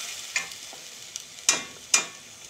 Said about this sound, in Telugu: దాని పచ్చివాసన పోయే వరకు ఫ్రై చేసుకుందాం